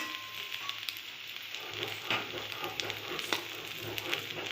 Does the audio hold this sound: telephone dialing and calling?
no